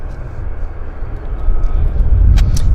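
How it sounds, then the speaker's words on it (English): A Boeing 787 Dreamliner being pushed back from gate 67 at Vancouver Airport gives off a steady, low ground rumble. It swells slightly partway through, with faint higher hiss and a brief whine near the end. "Pushing a beautiful 787 Dreamliner off gate 67."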